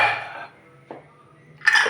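Closing the lid of a pressure cooker: a metallic clatter and scrape at the start, a short knock midway, then another bright metal clank at the end, all close by with quiet gaps between.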